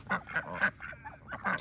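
Ducks being caught, giving loud, harsh quacks and honking calls in several bursts close by, with brief quieter gaps between the squawks.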